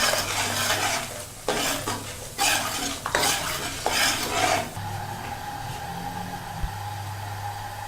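Spinach saag sautéing in a pan, with loud scraping stirs and a hissing sizzle in repeated bursts over the first few seconds, then a quieter, steady fry with a single clink near the end.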